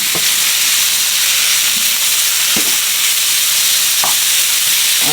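Meat sizzling in hot oil for a steak, cheese and rice dish, a steady bright frying hiss throughout with a few faint utensil taps, no talking.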